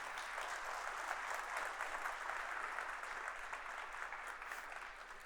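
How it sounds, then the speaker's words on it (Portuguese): Sustained audience applause at a maintenance technology conference, a dense, even roar of many hands clapping throughout with no talk over it. "eu queria pedir uma salva de palmas ao AI Center que estamos construindo."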